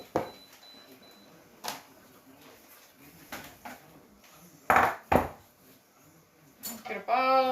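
Dishes clatter and cutlery clinks against a bowl in a few sharp bursts as boiled chicken dumplings are served, with scraping and a louder rattle at the end, close by.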